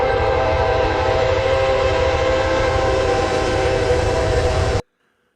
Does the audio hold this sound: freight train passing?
yes